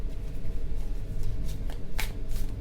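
Tarot cards are shuffled in the hands, a run of soft papery riffles and snaps close by with no talking.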